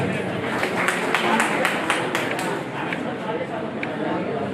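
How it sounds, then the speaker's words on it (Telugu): An audience claps loudly together to welcome a guest at a student felicitation ceremony hall, a dense steady wash of hand claps that fills the whole stretch. "గట్టిగా చప్పట్లు ఒకసారి సాగి."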